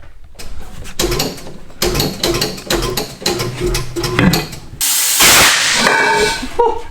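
Lubricant sprays in a loud sustained hiss while wheels are mounted on a Nissan S14, preceded by clanking and rattling of tools and wheel work nearby.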